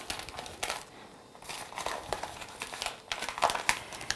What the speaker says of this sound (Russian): Затем из газеты или журнала несколько слоев складываю.